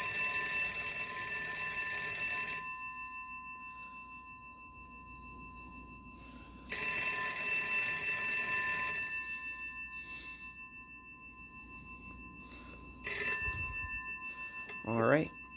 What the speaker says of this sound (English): I will give it a quick ring on my telephone analyzer